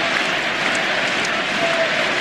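A basketball arena crowd in Indiana at the end of a Pistons–Pacers playoff game applauds and chants, a steady broad roar of clapping and voices filling the whole space without a break.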